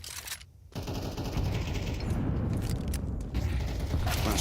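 Counter-Strike match gunfire during a headshot, a continuous burst of shots and mechanical clatter, loud and close, following a brief quiet gap, no talking.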